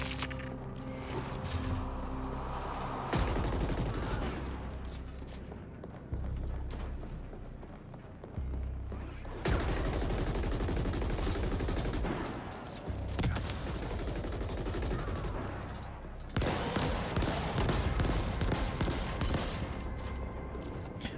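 Rapid bursts of hand cannon fire in the sci-fi shooter game The Ascent, loud, dense volleys repeating for about twenty seconds with short pauses between them, alone without talk.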